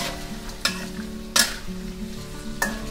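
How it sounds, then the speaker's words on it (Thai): Banana chips are stir-fried in fresh butter in a pan, giving a soft continuous sizzle broken by a few sharp scrapes and clatters of the spatula against the pan. "จะใส่เนยสดลงไปค่ะวันนี้เนยสดที่เราใช ้50กรัมนะคะใครที่ชอบหอมๆจะใส่เนยมากกว่านี้ก็ได้เสร็จแล้วก็ให้เราค่อยๆผัดไปให้ทั่วแบบนี้เลยนะคะ"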